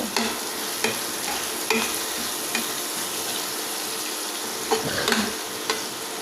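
Onions frying in oil in a pan, a steady close sizzle with occasional scraping stirs, no voices.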